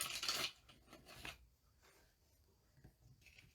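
Scissors trimming folded paper, a few short crisp snips and rustles up close, the first loudest, then quieter paper handling.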